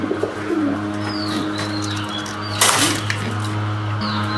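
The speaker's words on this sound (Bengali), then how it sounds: "আজকে আর মায়াকে আলাদা করতেছি না যেহেতু লস্টের নতুন একটা কবুতর আসছে" Pigeons coo repeatedly in a low murmur inside a loft under a constant electrical hum, with a brief flutter of wings partway through.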